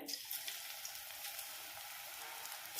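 Raw banana and peanut pakoda batter drops into hot oil and fries with a soft, even hiss and crackle, fairly faint and steady.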